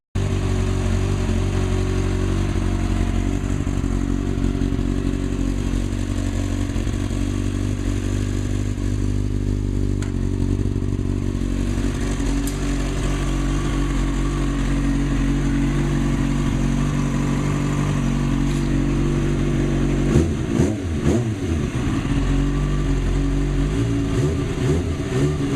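Kawasaki ZX6R 636 sport motorcycle, prepared for stunt riding, idling loudly and close with a steady rumbling engine note, a few blips of throttle near the end.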